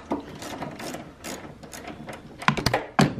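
Socket wrench ratcheting while loosening the coilover nuts on a Honda Civic Si (FA5), a steady run of close clicking followed by a few louder, sharper metallic clacks near the end.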